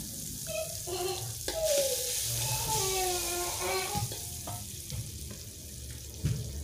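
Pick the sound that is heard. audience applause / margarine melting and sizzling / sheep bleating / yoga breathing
margarine melting and sizzling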